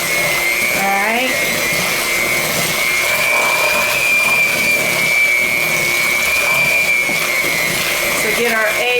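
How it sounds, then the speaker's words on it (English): Electric mixer beating Fig Newton-style cookie dough at medium speed whines loudly and steadily, shifting pitch as the beaters catch the dough, with a voice talking over it. "beat on a medium until the dough comes together, and then stir in the vanilla"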